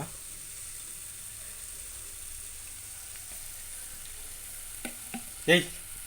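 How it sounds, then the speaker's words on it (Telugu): Onions fry in a pan with a steady, fairly quiet sizzle throughout, broken near the end by a few brief clinks and a louder knock. "ఉల్లిగడ్డలు మంచిగా ఇట్లా బాగా మంచిగా ఫ్రై కావాలి"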